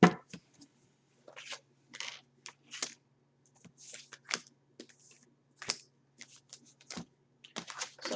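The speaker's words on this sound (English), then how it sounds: "And then we're going to shuffle one more time." A deck of tarot cards is shuffled in quick, crisp bursts of riffling and slapping, separated by short pauses, close and fairly quiet against a faint low hum.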